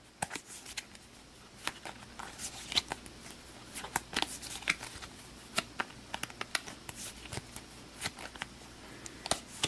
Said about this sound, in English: We'll give this a shuffle.